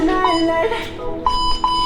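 Electronic timer beeps sound in a short series of clear tones, with a voice talking over them amid background music.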